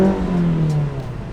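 Mazda NC Miata running a SuperQ exhaust with the baffles removed gives a short, close revving note that slides downward and fades within a second and a half.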